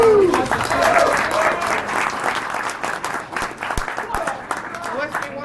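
A crowd at a live poker event applauds, a dense, steady wash of clapping and cheering with voices mixed in.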